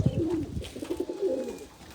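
Domestic pigeons coo close by in a loose run of soft, throaty calls.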